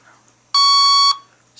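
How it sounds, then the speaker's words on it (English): A Red Brick 30A electronic speed controller gives a single steady programming beep lasting about half a second, clean and close against near silence. "And one beep low. Two beeps medium. Three beeps high."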